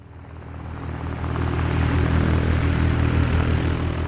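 A homebuilt propeller airplane on its maiden test flight drones loudly, its engine roar building over the first second and a half, then holding steady and close.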